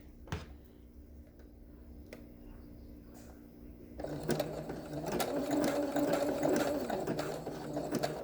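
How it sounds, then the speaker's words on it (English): Sewing machine running a zigzag stitch to attach paracord onto face mask fabric. A few faint ticks come first, then the machine whirs steadily and fairly close for the last four seconds. "Drop your presser foot. Zigzag stitch."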